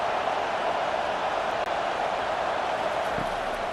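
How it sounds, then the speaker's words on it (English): Steady, dense roar of a stadium crowd swelling during a third-down defensive stand in College Football 25, Georgia Bulldogs against Miami Hurricanes; a continuous, loud wash of noise with no break throughout. "Decibels rising as the crowd gets behind this defense on 3rd down."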